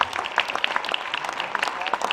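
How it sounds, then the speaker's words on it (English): Audience applause at a wildlife fundraiser auction after a winning bid, dense crowd clapping with scattered voices mixed in, steady and moderately loud throughout. "Give him a big round of applause"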